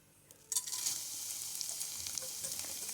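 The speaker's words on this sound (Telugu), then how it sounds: "ఆయిల్ బాగా హీట్ ఎక్కిన తర్వాత మనం ఇందులో అటుకులు వేసుకుందాం" Flattened rice (poha) drops into three tablespoons of hot oil in a pan and erupts into a loud, steady sizzle that stays bright and hissing throughout, with no talking.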